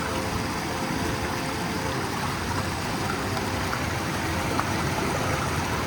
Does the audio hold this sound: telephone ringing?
no